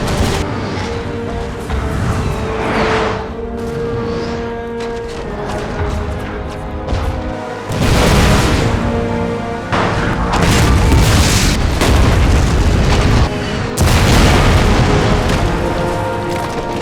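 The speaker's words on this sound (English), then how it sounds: "Admiral Seymour gave the order for the Royal Navy to bombard the Egyptian gun emplacements at Alexandria." Heavy naval cannon fire as a Royal Navy fleet bombards Egyptian coastal gun emplacements at Alexandria in 1882, in a Total War game battle: loud, dense booms and crashes rolling almost continuously, with sharper blasts recurring every few seconds.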